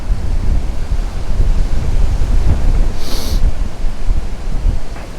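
Strong gusting wind, around 31 miles an hour, buffets a microphone beside a river, a loud continuous roar of rumbling low noise that swells and dips, with a brief faint whistle partway through and no speech.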